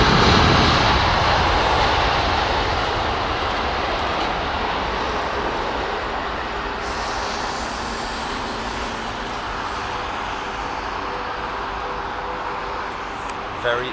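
A jet airliner touches down on the runway at sunset, a loud, steady engine roar and rushing wash that slowly fades, heard alone with no talk.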